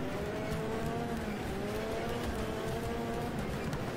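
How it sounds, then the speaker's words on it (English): In Next Car Game, a car makes a handbrake turn with a sustained engine drone and tire skid. The sound is loud and continuous throughout, with no talking. "Let's do a handbrake turn."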